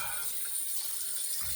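Tap water runs steadily from a faucet into a sink while a face is wetted before a wet shave, a brief continuous splash with no talking.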